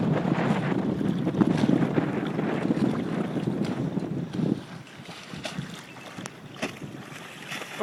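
Sail flapping on an Optimist sailing dinghy on the water, with gusty rumbling wind and irregular fluttering bursts, louder for the first few seconds and then easing to softer intermittent flaps.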